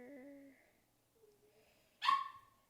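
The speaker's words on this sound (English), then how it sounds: "And my dog wants to go outside." A dog indoors wanting to go outside gives thin, quiet whines, goes still for a moment, then lets out one louder, sharper yelp close by.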